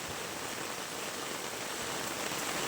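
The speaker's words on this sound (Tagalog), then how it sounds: "Grabe yung ulan dito guys. Halos magdamag yung ulan. Walang tigil." Steady, dense downpour of heavy rain hissing evenly and loudly throughout, with no voices.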